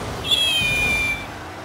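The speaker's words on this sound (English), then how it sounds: "Do you have a really good and cute meow sound to your disposal?" A cute cartoonish cat meow sound effect plays in the Rocket League video game, one clear rising-then-falling mew lasting about a second over low background noise.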